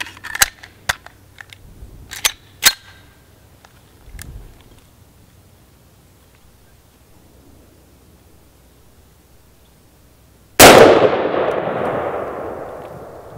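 A .50 Action Express pistol fires a 325 grain bullet over a chronograph: one sharp, very loud shot followed by a long ringing decay, after several earlier faint handling clicks. No speech.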